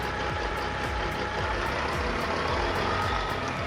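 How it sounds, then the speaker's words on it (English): Heavy truck engine rumbling steadily at a forest logging site, with a regular series of reversing beeps repeating loud and close over the running engine and no talk. "How about this truck?"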